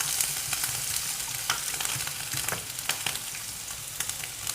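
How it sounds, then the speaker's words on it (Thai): Chopped garlic sizzles in hot oil in a pan, a steady bright crackling hiss with small popping spatters, close and continuous with no voices. "ถ้าตั้งไฟน้ำมันพอเดือด น้ำมันร้อนเราก็ใส่กระเทียมลงไปค่ะ"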